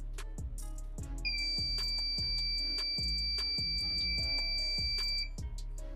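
An alarm from a homemade ESP32-based fire detector sounds a steady high electronic tone through repeated sharp clicks and thumps, fairly close and continuous for several seconds.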